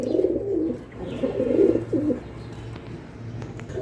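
A male pigeon coos in low, rolling bursts, two clear phrases close by, followed by quieter background.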